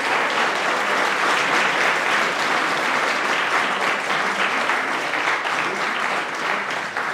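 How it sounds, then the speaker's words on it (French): An audience at a New Year's address breaks into sustained applause, many hands clapping in a thick, steady wash that holds at an even loudness throughout. "Si vous pouvez les applaudir"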